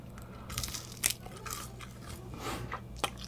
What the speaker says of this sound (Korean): 탕수육은 바삭한데 막 엄청 바삭하진 않은데 대신 딱딱하지 않아서 좋아요.